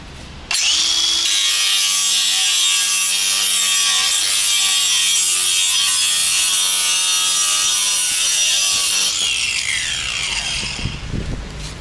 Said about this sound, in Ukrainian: Бачимо, диск ріже доволі плавно.